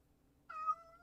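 A single short, faint meow from a cat, rising briefly and trailing off in an otherwise quiet room.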